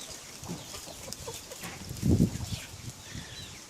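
Chickens and a rooster in a farmyard where children feed them bread, heard as faint scattered clucks under steady background noise, with one slightly louder burst near the middle.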